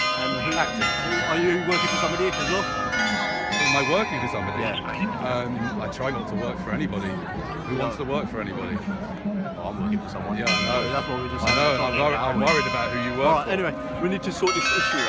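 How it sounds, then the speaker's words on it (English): Bells ring out on the hour in Leicester Square, London, a continuous ringing chime that carries on under two people's steady conversation. "So apologies for the bell noise."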